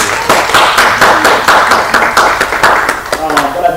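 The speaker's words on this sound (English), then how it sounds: "let's give her a round of applause" Audience at an international business and entrepreneurship talk gives a round of applause, with distinct claps in a fairly regular rhythm while a voice speaks over them.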